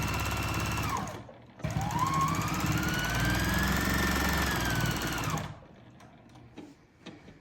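A sewing machine runs steadily through free motion quilting loops on a ghost-themed quilt with cotton backing, the motor whirring loud and close for several seconds before stopping, followed by a few faint clicks.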